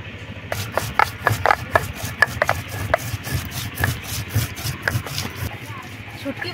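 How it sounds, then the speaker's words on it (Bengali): Boiled dried fish being mashed and squeezed by hand in its cooking water, a series of soft wet squelches and taps in an uneven rhythm, close and moderately quiet. "এবারে শুটকি মাছগুলো ভালোভাবে চটকে দিয়ে নেব।"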